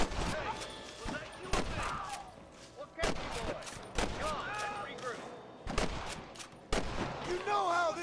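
Gunshots crack out repeatedly in Red Dead Redemption, sharp and fairly loud, coming in irregular bursts roughly every second amid shouting voices and Western shootout ambience.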